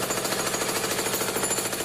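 Jackhammer pounding steadily and loudly on its own, a dense, rapid, continuous hammering rattle with no pauses.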